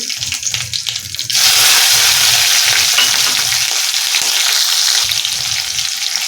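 Chili and curry leaves hitting hot oil in a kadhi tempering burst into a loud, steady sizzle that starts suddenly after a moment of quieter background and crackles on continuously, close by.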